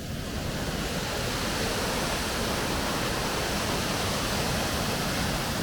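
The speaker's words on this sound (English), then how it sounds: "right at the waterfalls" A park waterfall in Brazil roaring as a dense, steady rush of falling water, loud and unbroken from start to end with no voices.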